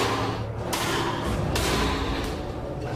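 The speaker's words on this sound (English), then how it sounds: "The 380 found in Brandon's girlfriend's apartment is test fired at the ballistics lab" A .380 pistol test fired in a ballistics lab, three sharp, loud reports spaced under a second apart over a dense background.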